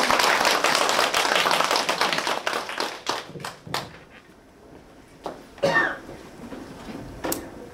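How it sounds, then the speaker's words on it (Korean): Audience clapping to welcome a branch chief to the stage at the founding ceremony of a digital poetry association chapter, a loud burst that tapers into scattered individual claps and a cough. "박수 좀 크게 주십시오."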